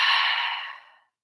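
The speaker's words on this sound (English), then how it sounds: "Inhale through the nose and let it go through the mouth." A single long exhale through the mouth during a breathing exercise, a soft breathy rush that fades out over about a second, followed by silence.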